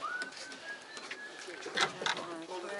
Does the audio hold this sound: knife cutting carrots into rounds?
no